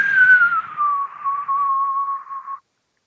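A voice imitates a long, low whistle, a single sustained tone that slides slightly downward and holds steady for over two seconds before stopping, heard over a phone line in a tabletop role-playing game.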